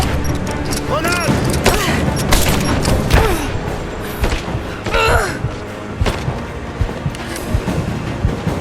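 A grenade blast in the video game Rise of the Tomb Raider, a heavy boom and thuds amid combat noise, with shouted voices in the mix.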